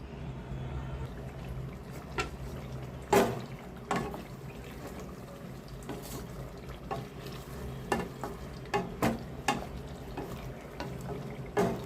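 A mixed lemon and gooseberry pickle simmers and fries in a pan, a soft bubbling sizzle punctuated by repeated spoon clicks and stirring strokes at an irregular pace.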